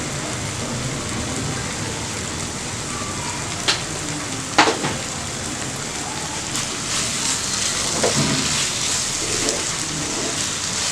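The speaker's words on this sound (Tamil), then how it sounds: "இன்னும் நல்லா வந்து அந்த எண்ணெய் பிரிஞ்சு வர வரைக்கும் வந்து வதங்கட்டும்." Mutton chukka masala and onions sautéing in oil make a steady, close sizzling hiss throughout, with a few brief sharper crackles and spatters rising above it.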